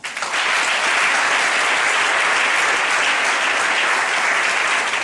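A church congregation breaks into sustained, dense applause with scattered cheers, a loud even wash of clapping that holds steady from start to finish.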